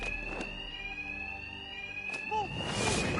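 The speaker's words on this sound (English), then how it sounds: "Two-Face's thugs won't hear me over the alarm." An alarm in the video game Arkham Knight rings as a continuous, steady electronic tone across the whole stretch, over a busy bed of game noise and faint rumble.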